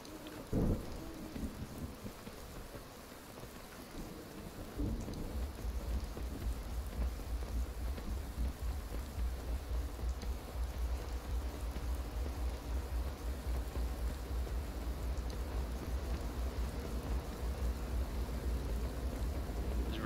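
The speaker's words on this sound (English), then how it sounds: "every time we've been traveling at night or traveling lately, there's been like a lot of rainstorms, thunderstorms, rather" Steady rain and a thunderstorm in the video game Skyrim during night travel on horseback: a constant dense hiss of rainfall with a deep rumbling roll of thunder setting in early and continuing underneath, no talking.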